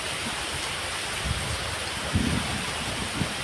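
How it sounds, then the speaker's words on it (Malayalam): Heavy rain pours steadily in Malappuram, Kerala, a dense continuous hiss with a few faint low thumps underneath and no talking. "നല്ല മഴയുണ്ട്"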